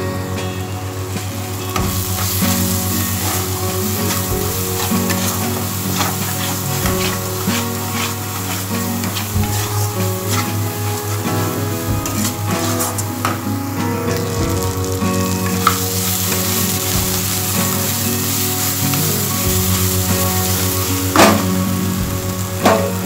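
Coconut soybean masala fries in a pan, a steady loud sizzle with rhythmic scraping and clacking of a spoon stirring against the pan throughout, close up, with no talk.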